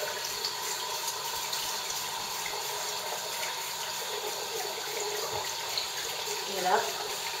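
Tap water running steadily into a sink while a makeup brush is wet under the faucet, a continuous hissing splash with a slight change in the flow near the end.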